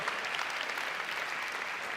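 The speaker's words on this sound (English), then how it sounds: "Yeah, go ahead, clap." Audience applause fills the room at a Pachamama Alliance luncheon, a steady, even patter of many hands clapping at moderate distance, sustained for a couple of seconds with no voices over it.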